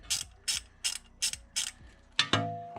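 A ratchet wrench loosening the oil drain bolt on a 2021 Honda Foreman 520 ATV gives five evenly spaced clicking ratchet strokes, then two sharper metallic clacks, close and clear with no speech.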